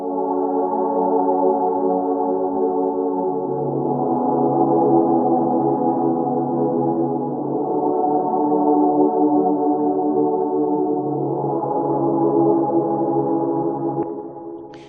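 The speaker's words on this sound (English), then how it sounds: "you can hear the little bass tones down here, but you can also hear the high kind of choir sounding sounds" An ambient synth pad swells and holds soft, sustained chords, with low bass tones beneath airy, choir-like upper voices, shifting slowly between chords, smooth and steady with no percussion or speech.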